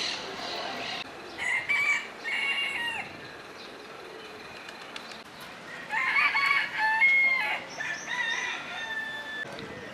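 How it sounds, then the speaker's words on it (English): Several roosters crow in long drawn-out calls, with a few clucks mixed in against a steady outdoor background in Spain; the crows come in two bursts, one early and one later. "Seem to be a lot of chickens and roosters and things."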